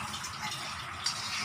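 Water is poured into a kadhai of makhana and potato gravy, giving a steady close gush and splash that runs without a break and with no voices.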